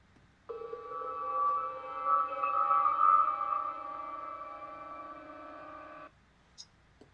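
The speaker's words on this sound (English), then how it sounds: "So when Scotty turned the dial and beamed Kirk down or up" Star Trek transporter beaming effect: a sustained shimmering, tonal hum with layered sparkling overtones, swelling and wavering for about five seconds and then cutting off, followed by a brief faint blip.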